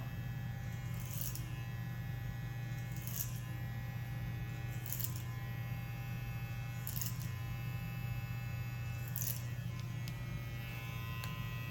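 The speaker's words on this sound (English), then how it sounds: "clip over comb, scoop into the hair, and then just start cutting away" A TPOB Play Mini hair clipper cuts hair over a comb with a constant close electric buzz, broken by short periodic rasping bursts about every two seconds as it passes through the hair.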